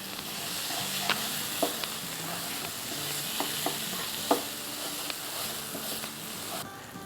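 Brinjal vindaloo masala stirring and frying in a pan, a soft continuous sizzle broken by spoon scrapes and occasional sharp clinks against the pan, close and fairly quiet with no talk.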